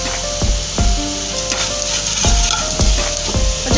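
Okra masala frying in a pan with turmeric and chili powder, a steady loud sizzle broken by several sharp scraping stirs of a spoon against the pan, with no voices.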